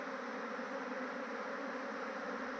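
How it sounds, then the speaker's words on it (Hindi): A honey bee swarm pours out of two hive boxes one after the other, making a dense, steady buzzing hum of many bees close by that holds unbroken throughout with no voices. "अब ये देखो इसको पूरे स्पीड में निकल रही है दोस्तों। कितनी मधुमक्खी है ये"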